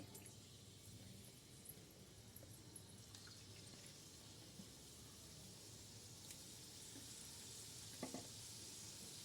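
Gujiya, filled sweet pastries, fry slowly in a pan over low gas with a faint, steady soft sizzle and a few small crackles and drips, quiet and alone.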